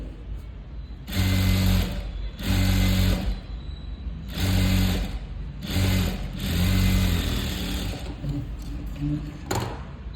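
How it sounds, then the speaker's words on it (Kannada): A sewing machine stitching a sleeve runs in five loud, close bursts of rapid whirring a second or two long, separated by short pauses. "ನೋಡಿ ಈಗ ಸ್ಟಿಚ್ ಮಾಡ್ಕೊಂಬಿಡಿ"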